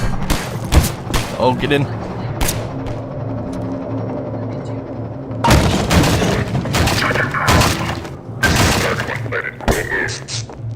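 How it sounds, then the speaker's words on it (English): Enemy gunfire in Half-Life 2, loud bursts of shots and booming impacts scattered across the stretch, with someone talking briefly between them. "they're shooting at me"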